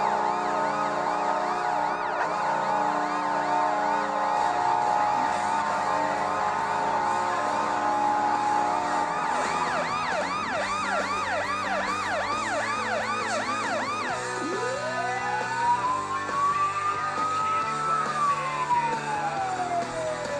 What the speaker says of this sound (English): The siren was bad enough.